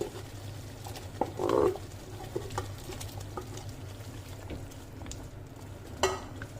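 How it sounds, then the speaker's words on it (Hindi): Fried chicken pieces are stirred into melted butter and cream in a pan for butter chicken, with a steady low sizzle, gentle pattering and a few louder scraping stirs up close. "एक क्यूब बटर ऐड करेंगे इसमें। ये जो चिकन किया था हमने, फ्राई किया था, इस चिकन को ऐड कर देंगे।"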